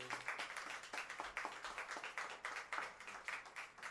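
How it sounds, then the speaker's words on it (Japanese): An audience at a small live jazz session claps for a drummer being introduced, a quiet, distant patter of scattered hands in uneven bursts, with no talk over it. "拍手。"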